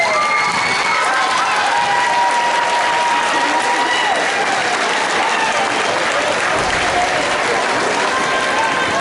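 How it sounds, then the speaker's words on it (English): Graduating middle school students at a 2016 ceremony stand and applaud their families and friends, a loud, dense, sustained roar of clapping with crowd cheering and shouts mixed in throughout. "Students, I ask you to stand now and applaud your family and the friends who are here supporting you"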